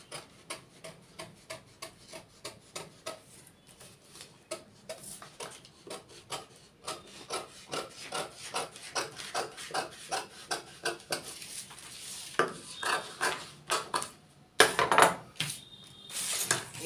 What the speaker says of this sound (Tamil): இப்போ பேக் வெட்ட போகிறேன்.